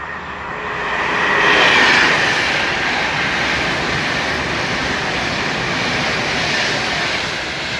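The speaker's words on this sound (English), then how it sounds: "Virgin train just gone past" A Virgin train passes through Leighton Buzzard station, a loud broadband rush that swells and then holds steady as it goes by, with a brief high metallic screech from the wheels.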